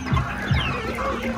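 Chickens on a farm in General Santos City cluck in low, short bursts against a busy, noisy barnyard background, close and moderately loud.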